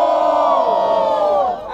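Crowd at a student rap battle in Guarulhos, São Paulo, roars and cheers loudly and continuously, a dense swell of voices that dips briefly near the end.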